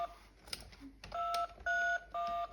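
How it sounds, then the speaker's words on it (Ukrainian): Electronic button beeps from a musical turtle baby toy's phone keypad: several short dual-tone beeps followed by three longer sustained tones, close and clear with no talking. "кнопочки для того, щоб навчати дитинку телефонувати, наприклад"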